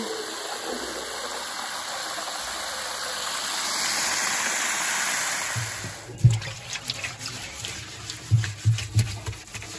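Water runs from a garden hose at a pony yard, a steady hiss that stops partway through, followed by a few thumps and splashes.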